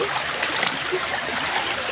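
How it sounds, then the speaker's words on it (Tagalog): River water flowing steadily while people wade across a river near Nonok Falls, a continuous broadband rush with a faint trickle, close and even throughout. "Oh, tumatawid na kami sa ilog."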